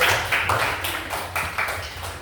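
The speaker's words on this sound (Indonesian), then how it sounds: "Tepuk tangan buat saya." A classroom of primary school pupils claps together in several quick, loud bursts of hand claps, close and somewhat uneven, with no talking over them.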